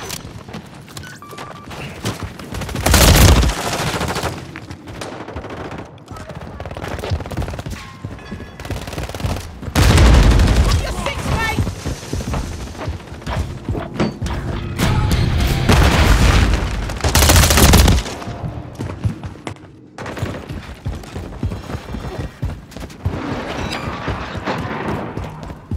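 Gunfire in the video game Call of Duty Modern Warfare 3 during an online match: repeated rapid shot bursts and heavy booms in several loud clusters over continuous game noise, without talk.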